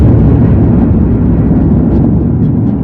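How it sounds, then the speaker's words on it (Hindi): A deep, sustained roaring rumble of the huge cosmic explosion that formed the Sun, loud and continuous like the aftermath of a massive blast, with no voices. "बीच के इस भयंकर दबाव के कारण एक विशाल विस्फोट हुआ"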